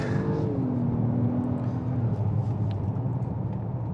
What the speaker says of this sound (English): Let's slow down all the way here and let's just run through the RPMs and see how this thing responds